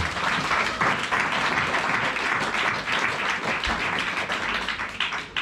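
A church congregation breaks into loud, sustained applause with cheering, a dense wall of clapping that holds steady for several seconds.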